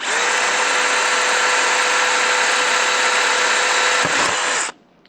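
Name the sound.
power drill drilling a hole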